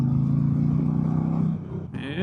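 A 2025 Indian Chieftain PowerPlus Limited cruiser with the 112 PowerPlus engine pops and burbles on deceleration, a loud, close, low rumbling throb that dips briefly before a higher whine cuts in.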